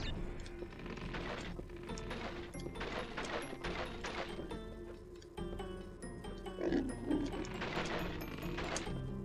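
Pigs oink in a Crash Bandicoot video game amid busy mechanical clanking and whirring game sounds, the grunts brief and partly buried in the steady clatter.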